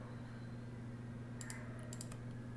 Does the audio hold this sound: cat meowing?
no